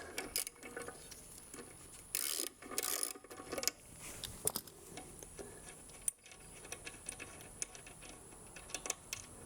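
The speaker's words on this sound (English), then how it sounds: "go ahead and take off this bolt right here. Now this bolt right here is a 1/2 inch socket." Ratchet wrench with a 1/2 inch socket turning out a bolt on a 2017 Harley-Davidson Road King, giving quick repeated clicking ticks close by, with a few brief louder scrapes and knocks.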